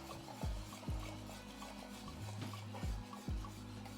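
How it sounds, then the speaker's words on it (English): Whisking milk into a roux for béchamel sauce, with repeated rhythmic scraping strokes of a whisk against the pan, about six sharper swipes over a continuous soft stirring, close and quiet. "Our sauce is starting to thicken, and just keep whisking."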